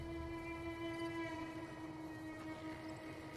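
A faint, steady, horn-like hum from a monorail train in the Fallout: New Vegas video game drones on with no break, low in level, under a soft background hiss.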